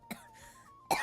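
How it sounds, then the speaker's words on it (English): A single short cough or throat clear comes up close, followed by a quiet pause and then a second, louder rasping cough at the end. "I really need a cough."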